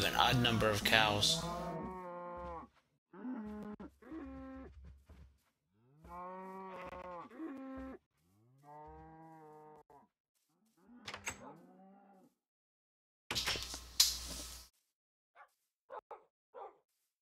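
Cows moo repeatedly in Minecraft, a series of drawn-out blocky lowing calls separated by pauses, with a few sharper bursts of other game sounds between them.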